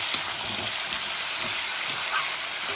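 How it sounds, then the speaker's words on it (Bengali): Green chilies, tomato and chopped onion sizzling loudly in hot oil for a fish-oil chorchori, a continuous near frying hiss broken by a few soft scrapes as the pan is stirred, with no talking. "এখানে কাঁচা লঙ্কা, টমেটো, কোচানো পেঁয়াজ দিয়ে দিলাম, দিয়ে একটু নাড়াচাড়া করে"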